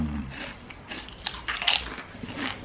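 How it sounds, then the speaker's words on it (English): Crunchy Lay's Stax potato crisps in salt and vinegar flavor are bitten and chewed close up, with several sharp crackling crunches in quick succession and no talking. "Can you guys hear that bite?"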